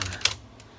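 Keys on a computer keyboard are pressed in BIOS setup, a few quick close taps with one sharper click, heard alone.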